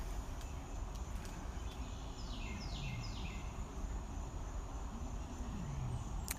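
Outdoors in the evening at a big cat rescue sanctuary, a bird gives a few short, quick descending chirps in a brief cluster. The chirps sit over steady background noise and no one speaks.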